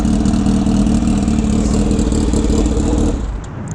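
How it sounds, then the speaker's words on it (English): A Kawasaki Ninja H2 motorcycle engine runs loud and close just after start-up with a steady, throbbing idle, then drops to a quieter level in the final half second. "the motorcycle starts up just fine"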